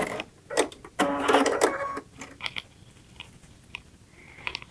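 Baby Lock Aerial sewing machine stitching through four folded layers of 12-ounce denim, a few quick mechanical bursts and a brief whirring run up close, then lighter clicks and taps as it finishes with a tie-off.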